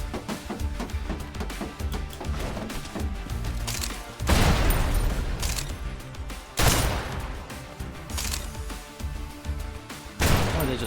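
Gunfire in the shooter game SnowBreak: Containment Zone, a steady rattle of rapid shots with three heavier loud bursts at intervals, over a backing music bed.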